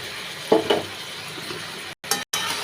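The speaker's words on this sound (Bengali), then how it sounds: "একটু নাড়াচাড়া করে দিই" Poppy seed paste being stirred in a pan with ridge gourd and potato, a soft scraping with a couple of brief clinks over a low steady sizzle, near and fairly quiet.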